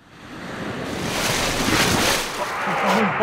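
Ocean waves wash onto a seashore in a radio drama, a broad steady surf that swells and rolls, loud and close, with a wind-like rush and no voices.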